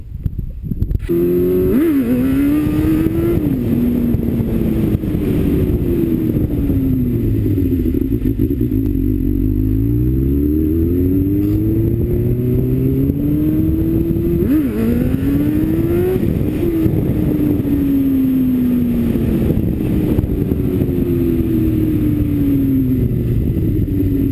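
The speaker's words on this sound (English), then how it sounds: "So let's start up the bike again and try to get a couple of those going." Motorcycle starting and idling before repeated revs, the engine note rising and falling in several sweeping swells over a steady rumble, loud and close throughout with no talk.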